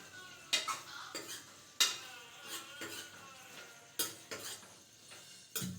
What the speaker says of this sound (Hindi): अब मैंने जो ग्रेवी बनाई थी उसके साथ पनीर मिक्स कर ली थी